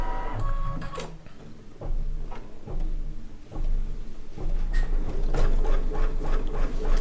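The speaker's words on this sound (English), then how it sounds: "I'm going to baste my fabric to the stabilizer." Embroidery sewing machine basting fabric to stabilizer with large stitches, a rapid mechanical whirring and rhythmic clatter that pauses briefly and then runs on steadily, close and fairly loud.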